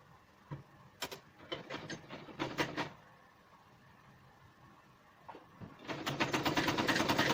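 Sewing machine stitching a zip onto a rexine ladies' bag, with short bursts of mechanical clatter separated by pauses, then a steadier, louder run of stitching near the end.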